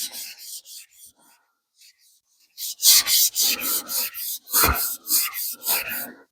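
Knife blade stroked across a sharpening stone in rhythmic passes, a gritty rasping scrape repeating about a dozen times, quiet at first and then louder and closer, without talking.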